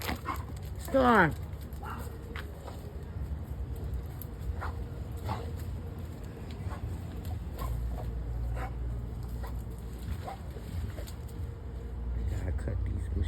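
A dog gives a single loud yelp near the start, followed by faint scattered whimpers and small sounds over a steady low outdoor rumble.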